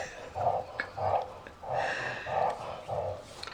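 A dog snorts and huffs in a steady series of about six short, nasal bursts, close by and moderately loud, with no talking over it.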